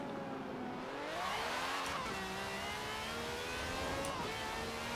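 A Porsche 906 in Forza Horizon 4 accelerates hard down a highway, its engine note climbing through the revs with audible gear changes, heard steadily and fairly quietly with no talk.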